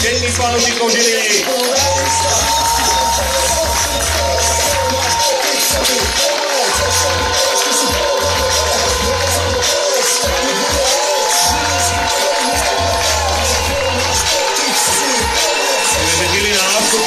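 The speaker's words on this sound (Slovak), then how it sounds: "Prosíme o veľký potlesk všetkých fanúšikov Žiliny." Fans of the Žilina Warriors cheer and applaud at the Slovak Bowl American football final, a loud, continuous crowd roar filling the stadium, with a public-address voice carrying over it.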